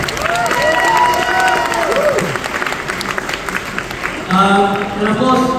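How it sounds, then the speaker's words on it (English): Audience applause at a corporate event fills the space, a steady wash of clapping with voices and tonal sounds mixed in, swelling again near the end. "so can we give them a big round of applause, please?"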